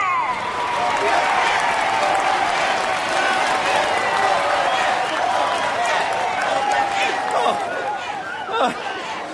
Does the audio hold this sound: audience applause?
yes